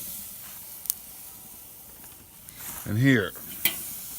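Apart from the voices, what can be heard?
chicken wings sizzling as dropped onto the grill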